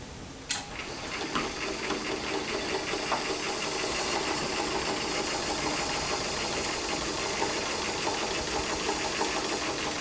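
A sewing machine stitches jacket fabric straight off the edge, a steady rapid mechanical whir after a sharp start, loud and close, with no talking.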